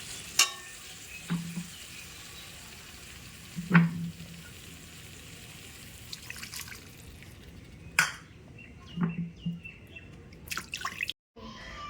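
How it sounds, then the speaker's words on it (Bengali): Fried potatoes being stirred in a pan for a raw banana vegetable curry, a low steady sizzle broken by a few sharp scrapes and clacks of a utensil, with a brief silence near the end. "এবার আমি এর মধ্যে আলু ভাজা আলুগুলো দিয়ে দিচ্ছি সাথে আলুটাকে ভালো করে একটু নাড়াচাড়া করে"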